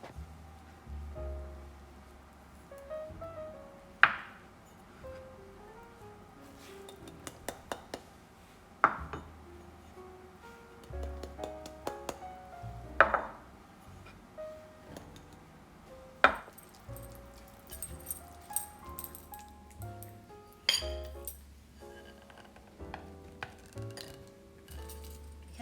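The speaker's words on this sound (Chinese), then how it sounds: "搅拌均匀就可以了。" A spoon stirs snow skin mooncake batter of glutinous rice flour, rice flour, wheat starch, oil and icing sugar in a bowl, giving soft scraping under quiet music, with occasional sharp clinks against the rim.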